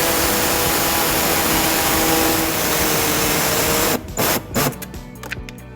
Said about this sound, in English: we're going to be using our air saw to cut that